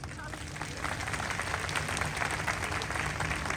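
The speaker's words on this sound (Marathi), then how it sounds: "हात वरती करून जोरात टाळ्या वाजवा" An audience at a comedy ukhane show at a chowk in Pune claps together in a dense, steady roar of applause, with voices mixed in.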